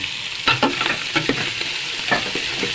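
Ginger is stirred in a frying pan alongside garlic, onion and dried anchovies, giving a close, continuous sizzle broken by quick scraping strokes of the spoon.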